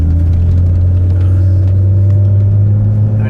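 A JDM 2JZ-GTE engine swapped into a MK4 Toyota Supra with a misfire runs with a steady low droning rumble and uneven sputtering, close and loud throughout.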